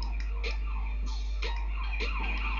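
Police sirens wailing in the video game GTA Chinatown Wars during a chase, a repeating warbling electronic tone over steady engine hum, fairly loud and continuous.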